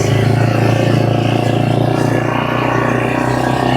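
A free utility terrain vehicle with sticking brakes and a worn axle runs steadily nearby, its engine holding a continuous, even drone throughout with no pauses.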